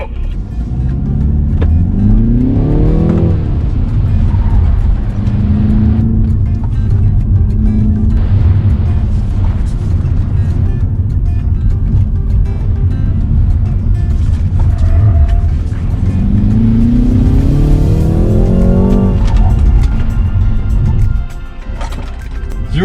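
A BMW 330i M Sport G20 launches hard and accelerates loudly from inside the cabin, revs climbing through several gear changes with rising and dropping engine tones, then easing off at the end.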